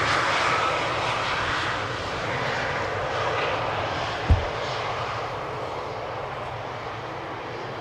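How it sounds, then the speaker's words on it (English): A Boeing 777-300 airliner arriving from Dubai at Schiphol Airport, its jet engines a steady, loud roar that fills the whole clip, with one brief thump midway. "There's a 777-300 arriving from Dubai."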